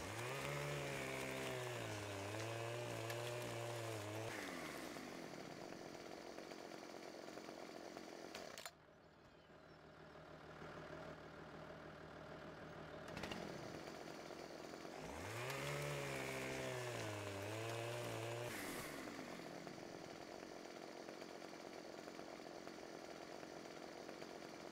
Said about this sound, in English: One should not jump from a tree with the chainsaw running.